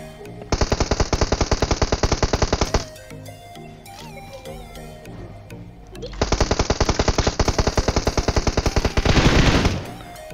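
Rapid automatic gunfire in PUBG Mobile, two long sustained bursts of evenly spaced loud shots separated by a quieter stretch of game ambience and distant shots.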